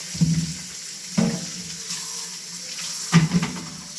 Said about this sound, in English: We're going to rinse them really good. Wash them up, just like you do at home.